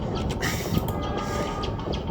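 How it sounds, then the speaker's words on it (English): Train rolling along in the city-building game Workers & Resources, a steady dense rumble with clattering wheel noise and faint metallic squeals, continuous and close throughout without breaks. "this is a nice size of train"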